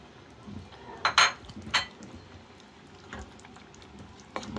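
Small kajoli fish are stirred in a pot of boiling water, giving a few faint metallic clinks of a utensil against the pot amid quiet background noise.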